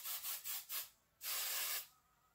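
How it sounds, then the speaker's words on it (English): Several short aerosol spray bursts hiss in quick succession, followed by one longer spray, close by and otherwise quiet. "And do a little hairspray."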